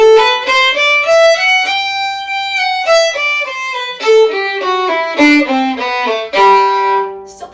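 Solo fiddle bowing a tune in a two-slurred, two-separate pattern with the accent on the backbeat, clear harmonic notes moving in a steady rhythm, close and alone.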